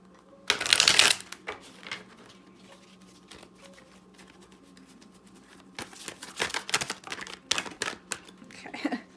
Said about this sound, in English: Not shuffling very well today.